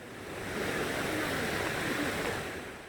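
A cool mountain valley stream runs beside a trekking trail, its water rushing in a steady, full, broadband hiss that swells slightly and then eases, with no voices.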